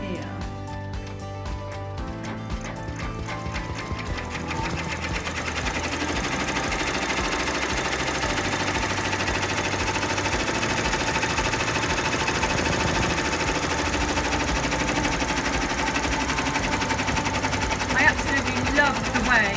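A sewing machine satin stitching an appliqué bear-and-kite design runs in a fast, continuous mechanical whir, loud and close, steady throughout with a slight rise partway in.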